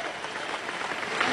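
Applause from an audience at a papal meeting of popular movements, a continuous crowd of clapping hands heard from a distance, steady and moderate, swelling slightly toward the end.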